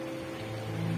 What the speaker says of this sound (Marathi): पण आता पाऊस पडतोय आणि तुम्ही बघू शकता किती सुंदर वातावरण झालंय